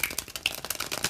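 A deck of playing cards being shuffled, a quick run of close, crisp riffling flutters lasting about a second.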